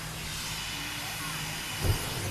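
Cooking gas hissing from a household gas cylinder, a steady close whooshing hiss throughout with a brief low thump near the end.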